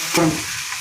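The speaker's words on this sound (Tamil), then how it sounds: "வதக்கி வைத்திருக்கும் பப்பாளிக்காயை அந்த மசாலாவோட போட்டு நன்றாக வதக்கவும்." Raw papaya pieces sautéed in masala for a dried-fish papaya curry, a brief close burst of sizzling and a spatula stir that quickly settles into a soft hiss.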